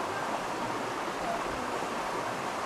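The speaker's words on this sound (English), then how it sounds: "he's now going to fill out the bottle all the way" A water sample bottle is held underwater in a stream and fills, heard as a continuous close rush and gurgle of flowing water without pause.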